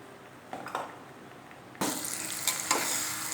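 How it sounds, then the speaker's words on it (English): Ground coriander pickle sautéed in a pan gives a quiet stir and scrape at first, then a sudden louder sizzle and hiss that continues with a few spatula scrapes. "now I have to fry it again, have to saute it again, so that its shelf life is longer"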